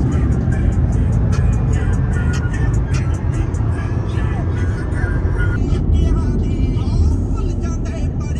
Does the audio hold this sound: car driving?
yes